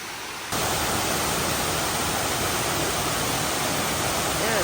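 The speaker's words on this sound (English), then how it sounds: "it's quite beautiful, this waterfall. Only a small one, but still very nice" A small waterfall in Chiang Dao, Thailand, pours with a steady, close rushing roar that starts abruptly and holds evenly to the end.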